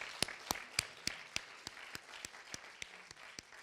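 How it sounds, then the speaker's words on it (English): An audience at a Serpentine arts event applauds in a light, scattered round, with sharp individual claps popping out at an irregular pace over a soft, steady patter of hands. It is fairly quiet and heard alone, with no talk. "I want to ask you all to give a big round of applause to Erin as well."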